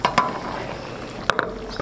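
A spatula gently pushes tofu and fish through a lightly thickened sauce in a wok, making a soft sizzle broken by a few sharp metallic scrapes and clinks against the pan.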